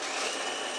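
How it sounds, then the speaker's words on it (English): A loud, steady motorized whir of a Ninja food processor chopping walnuts, running continuously without pause, close by, with no voices. "I'm going to put it into my little Ninja food processor"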